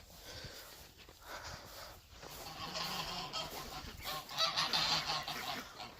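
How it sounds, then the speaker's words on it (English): Geese honk repeatedly at close range, a series of nasal calls growing louder toward the end, with no talk. "These geese over here,"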